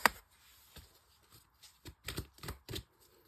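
Tarot cards are riffled and shuffled in quiet bursts, a sharp snap at the start followed by several soft, rhythmic flutters close to the listener.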